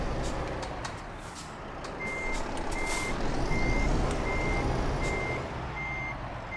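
A truck in Euro Truck Simulator 2 reverses with a steady, evenly spaced electronic beeping repeating over a low diesel engine rumble, while the engine swells and eases during the manoeuvre.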